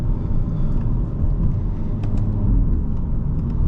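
2025 Hyundai Elantra N DCT engine in second gear while driving, a loud steady low rumble from inside the car with a few faint clicks.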